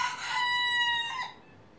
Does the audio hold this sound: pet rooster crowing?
yes